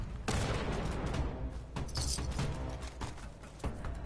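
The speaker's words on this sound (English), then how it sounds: "I'm just tossing so many frags because I have so many." Frag grenades going off in Fallout 76, several heavy booming blasts in quick succession with broad rumbling bursts and crackling debris, fairly loud and without talk.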